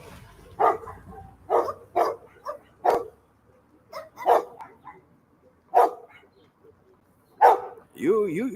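A dog barks in short, separate bursts, about seven or eight of them spaced a second or so apart, fairly close and loud, with a brief whining or vocal sound at the very end.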